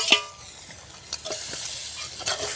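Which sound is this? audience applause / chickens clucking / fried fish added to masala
fried fish added to masala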